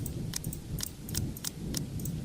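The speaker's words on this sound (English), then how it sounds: "The rain fall in fast, steady sheets, creating shallow puddles on the dirt path, drenching everything the ice can reach." Rain falling steadily in the horror visual novel game The Letter, a soft continuous wash with faint, irregular ticking drops on top, no voices.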